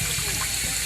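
Wort pours steadily into a conical fermenter in a continuous close rushing flow, with a low pump-like hum beneath it.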